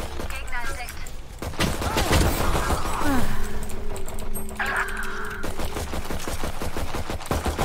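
Rapid gunfire from a full magazine being emptied in the tactical shooter Valorant, a dense burst of shots running through most of the stretch with game effects and a voice speaking underneath.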